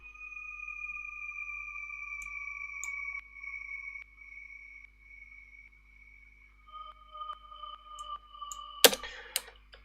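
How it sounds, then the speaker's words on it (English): Synthesized whale sounds drenched in heavy reverb: long sustained tonal calls gliding and shifting pitch, quiet and spacious, ending in a louder noisy burst and scattered clicks. "I tried to make some eliminate whale sounds."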